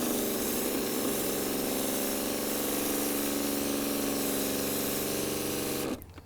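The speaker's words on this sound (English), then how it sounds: "I've got my bubbler on, and I'm just gonna prime this until I have some chemical coming out" A hand pump sprayer loaded with coil cleaning chemical is primed for a ductless mini split outdoor unit, giving a loud steady buzzing hiss that stops abruptly near the end.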